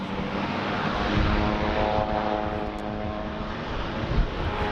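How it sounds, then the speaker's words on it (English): An aircraft running engine tests at Sydney Airport gives a loud, steady propeller drone with a sustained low hum and tonal whine, filling the scene continuously and without talk. "listen to those engines just while it's doing the engine tests"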